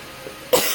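A single sharp cough from a person recovering from a cough, close to the microphone and following a brief quiet lead-in.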